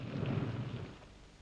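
Rain falls with a low rolling rumble of thunder, a deep swell that peaks early and then fades, with soft rain texture beneath, heard alone and fairly quiet.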